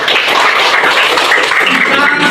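Group of people clapping hands together in a classroom session, dense continuous applause filling the short moment at close range.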